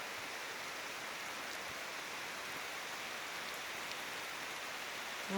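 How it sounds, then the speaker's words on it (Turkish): Heavy rain falls steadily in Ulus, Bartın, a dense, even hiss of large drops pattering on surfaces, close and continuous with no voices. "Çok iri yağmur."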